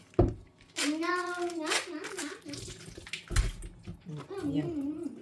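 Tap water running and splashing in a kitchen sink while mozzarella is drained, in uneven bursts, with a person talking close by and brief handling noises.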